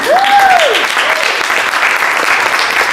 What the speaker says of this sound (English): Can I get a round of applause for our panel?